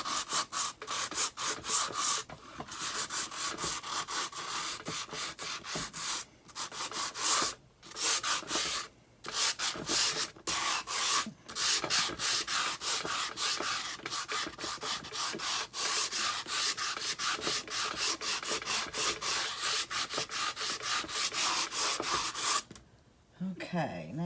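Walnut stain or ink is rubbed around the edges of a scrap-wood Santa and nativity craft, making close, continuous scratchy strokes broken by a few short pauses.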